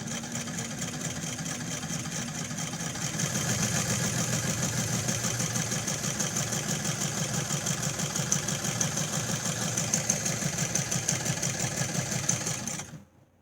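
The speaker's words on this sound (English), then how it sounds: "Let's try the electric motor." Eatonia sewing machine driven by a Singer electric motor, starting with a motor whir then settling into a steady fast mechanical clatter and hum for about ten seconds, close and continuous before stopping abruptly.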